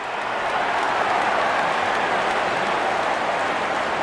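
A crowd in a cricket mobile video game gives a steady, dense roar of cheering and applause for about four seconds, loud and continuous, with no talk over it.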